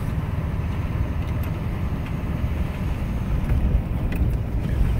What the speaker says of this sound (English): I got the windows down, just driving through the woods here.